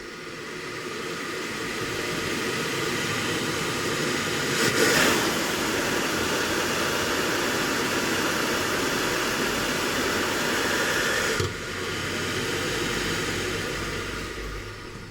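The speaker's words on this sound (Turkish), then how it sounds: "Yani 3000 devir ile yaklaşık 600 devir arasında rahatlıkla dönebilen bir fan." An EBM-papst RLA97 fan motor from a Vaillant combi boiler spinning at maximum speed, producing a loud, steady broadband whoosh and hum with a couple of brief changes in tone midway.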